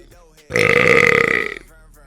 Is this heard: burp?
yes